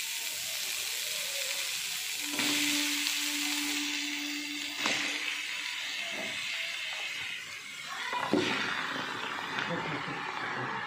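Chopped bottle gourd tipped into a dry wok releases a loud, steamy hiss and sizzle that carries on under a person speaking.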